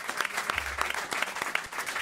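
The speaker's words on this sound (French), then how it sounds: "on vous applaudit" A studio audience applauds steadily for about two seconds on a French television talk show, dense clapping heard alone without talk.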